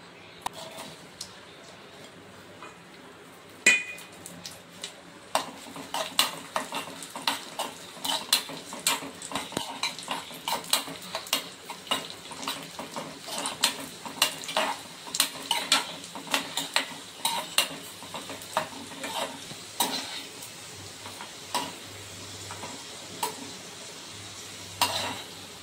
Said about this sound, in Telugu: స్టవ్ వెలిగించి చిన్న బాణాలను పెట్టుకొని దానిలో నెయ్యి వేసి జీడిపప్పును ఎండు ద్రాక్షను వేయించి తీసుకోవాలి